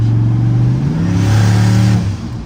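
A twin-turbocharged car engine revs loudly and close, its pitch climbing and then settling as it accelerates, with a whirring turbo tone on top.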